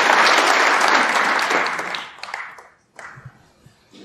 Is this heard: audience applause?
yes